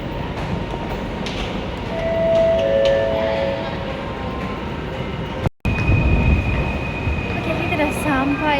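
An LRT light rail train rumbles with a loud, continuous rolling noise and brief squealing tones, heard close up from aboard or beside it, with a short dropout midway.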